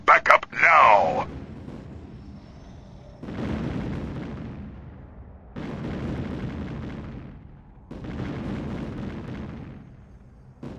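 Artillery shells pound an outpost in the strategy game Ground Control: several heavy, booming impacts arrive a few seconds apart, each rolling on with a long rumbling tail, after a brief burst of radio-style voice chatter at the start.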